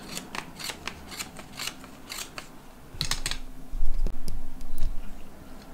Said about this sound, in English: It's very important to have sharp scissors, and you cut like this.